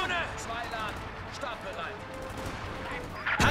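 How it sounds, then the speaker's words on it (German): Distant gunfire in the World War II strategy game Company of Heroes 2, Ardennes Assault, scattered shots in a busy battlefield mix under steady voice chatter, ending in a louder crack. "Dauerbeschuss! Wir werden beschossen!"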